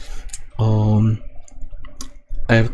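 Crisp mouse clicks ring out close and loud while navigating 3ds Max, probably on its view cube. Sharp clicks sit between sustained tonal beeps, with a voice talking faintly beneath.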